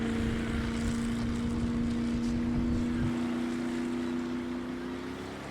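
A motorboat engine drones loud and steady at full throttle, its constant low tone holding throughout and easing slightly toward the end, with no talking.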